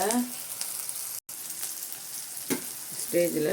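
Green beans sauté in a pan while rava upma is being made, giving a close, steady sizzle with a brief stirring scrape and a short break midway.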